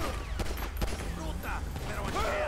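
Rapid gunfire in GTA 5, a dense fusillade of overlapping shots running throughout the scene.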